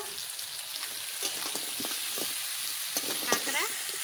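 Crab dropped into a hot pan for a kekda masala, giving a steady sizzle and frying hiss with a few crackles and stirring scrapes, loud and close throughout.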